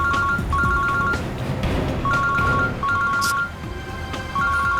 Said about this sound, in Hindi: श्रेया की माँ का फोन।